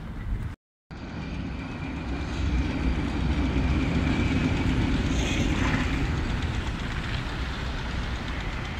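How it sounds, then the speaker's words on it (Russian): A train pulls away through snowy Saint Petersburg, a steady low rumble of wheels and engine holding loud and broad after a brief dropout near the start, with no voices. "И поезд уходит вдаль."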